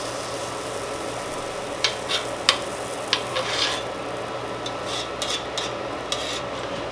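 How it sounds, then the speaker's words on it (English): Banana pancake flipped over in a hot pan, a soft scrape of the spatula followed by a steady sizzle with a few light clicks and taps over the continuous frying hiss. "we're going to go ahead and flip this one, get underneath of it, and flip it over"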